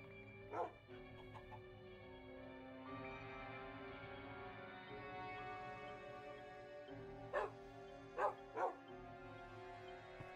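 A dog in the video game Minecraft gives several short barks, a few near the start and a cluster later, over a steady tonal game music bed at low level.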